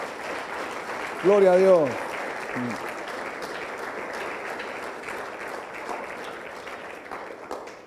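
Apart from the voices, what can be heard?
church congregation applauding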